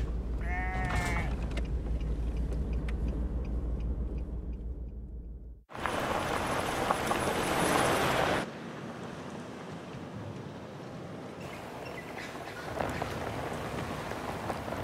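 Sheep bleat a few times early on an outback station, close and clear, followed by broadband noise that sounds like wind or rain, with no talk.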